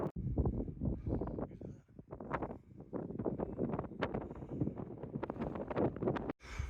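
Strong wind buffeting across exposed hill terrain in the Scottish highlands, loud continuous gusting roar with rumbling microphone blasts, rising and falling without letup and cutting out briefly near the end.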